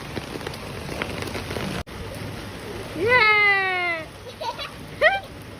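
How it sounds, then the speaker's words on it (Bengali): Rain falls on an umbrella with a steady, soft hiss throughout, while a voice briefly rises over it midway. "ছাতার তলায় কিরকম বৃষ্টিটা হচ্ছে দেখো খালি।"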